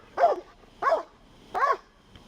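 A police K9 dog barks during an arrest at a door, three loud, evenly spaced sharp barks close by, with no talking over them.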